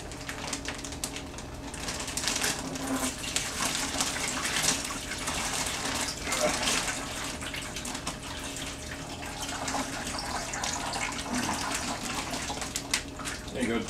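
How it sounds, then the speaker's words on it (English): Water gushes and splashes steadily as it is poured out of a shiitake mushroom growing kit bag, a continuous close pouring with no speech. "what I'm going to do now is I'm going to pour all the water out."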